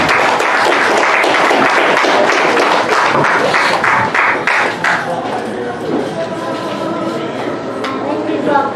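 Wedding guests at a church ceremony applaud as the pastor steps forward, a dense, loud burst of clapping that thins out over several seconds with a murmur of voices underneath.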